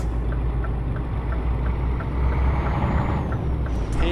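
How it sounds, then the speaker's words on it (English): A Scania V8 truck engine with a sound mod in Euro Truck Simulator 2 gives a steady, loud, deep rumble that holds throughout, with a faint hiss on top and no talking. "Hear that V8 engine, beautiful."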